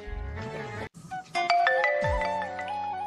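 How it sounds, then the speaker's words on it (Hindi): A bright electronic iPhone ringtone melody plays, chiming tones stepping through a short tune after a brief lower-pitched intro. "ये होती है आईफोन की रिंगटोन"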